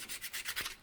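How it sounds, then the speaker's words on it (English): A few quick, soft hand-sanding strokes with 120 grit sandpaper on a laminated slingshot, a faint rhythmic rasping back and forth. "So I'll come back with some hand sanding about 120 grit"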